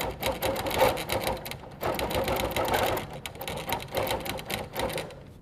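Sewing machine fitted with a 360 Wonderfoot hopping foot stitching down applique on a quilt block, a quiet, continuous rapid mechanical chatter that speeds and slows in short bursts.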